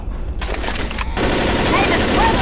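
Rifle gunfire in the video game Left 4 Dead, set in a tunnel, comes as loud, dense rapid bursts over a rumbling background, with a brief pause before heavier sustained firing.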